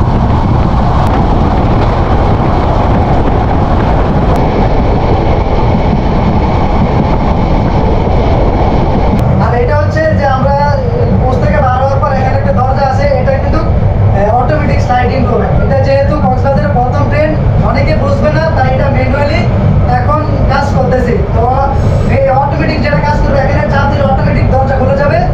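Cox's Bazar Express train running past Islamabad station in Bangladesh: a steady, loud rumble of rolling wagons throughout, joined midway by a crowd of onlookers chattering and shouting over the passing train.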